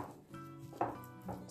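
Chopped parsley and onion being stirred together in a bowl for chicken meatballs, giving soft, quiet scraping and light clinks of utensil against dish, close by and low in level.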